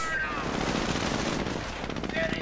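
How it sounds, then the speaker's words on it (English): Rifle and machine-gun fire from a World War II strategy video game, riflemen with BARs engaging a Panzer near a church, a dense continuous crackle of gunfire and battle noise throughout. "Another rifleman moving up close with the BRs firing, trying to do the best against the Panzer"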